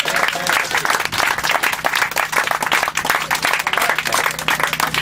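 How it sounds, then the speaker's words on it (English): A group applauds Greg and David at a search and rescue exercise debriefing, a lively, continuous clapping from a small crowd at close range for about five seconds. "how about a round of applause for Greg and David for putting this whole thing together?"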